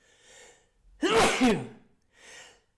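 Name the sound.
sneezes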